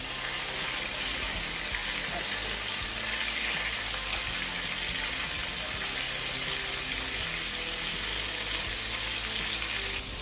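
Chicken pieces frying in a pot of hot oil for Jamaican-style crispy fried chicken, a steady, dense sizzle and crackle that continues loudly and evenly throughout with no talk.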